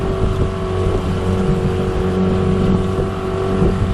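A Seatan 15 hp outboard motor drives an 11-foot flat-bottom aluminium boat during run-in at about 30% throttle, giving a steady, close engine drone with wind and water noise throughout.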